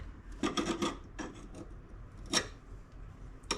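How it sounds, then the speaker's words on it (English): A small hand scraper rasps across a car engine part on a Suzuki Cara, cleaning off an old gasket surface, in a quick cluster of close scratchy strokes, a pause, then a single sharper scrape. "Just using a little scraper that I have."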